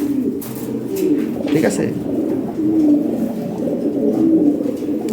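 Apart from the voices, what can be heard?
Toy Lahori pigeons cooing in a cage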